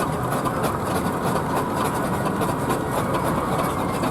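A steam roller from a Dorchester, Dorset rolling firm rumbles past in the grand parade at the Bloxham steam rally, a steady, dense mechanical churning heard close by and without any talk over it.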